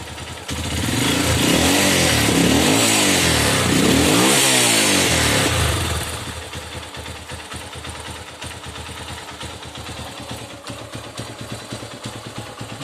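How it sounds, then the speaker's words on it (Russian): A Zongshen ZS200 motorcycle engine, recently treated for an air leak and a cleaned carburetor, revs up loudly with rising and falling throttle blips, then settles into a steady, quieter idle. "Мотор работает, обороты набирает, сбрасывает. Вот, холостые."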